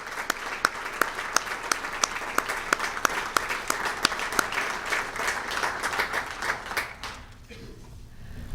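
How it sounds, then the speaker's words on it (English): A crowd applauds at a fire department awards banquet, steady clapping with a few sharp nearby claps standing out, then fading away near the end. "But all of you stand to be recognized and for a round of applause."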